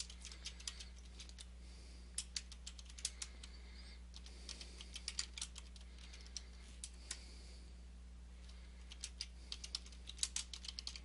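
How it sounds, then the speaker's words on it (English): Rapid keystrokes tap out text on a computer keyboard while using report-building software, sharp irregular clicks in quick bursts and pauses, close and fairly quiet over a steady low electrical hum, with no talking. "you type in the text that you want to use"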